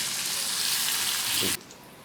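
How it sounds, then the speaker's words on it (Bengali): Chopped onion frying in oil in a pan as a quick veg snack is made, a steady bright sizzle filling the air for about a second and a half before dropping abruptly to a faint low hiss. "এবার পেঁয়াজটা আমি হালকা করে ভেজে নেব।"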